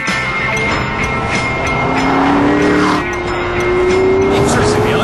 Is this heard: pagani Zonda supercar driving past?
yes